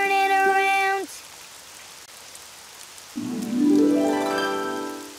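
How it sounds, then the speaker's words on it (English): Cartoon rain falls outside as a soft, steady hiss heard between bright musical tones, with a rising synthetic sweep joining in afterward. "Oh, it's raining outside."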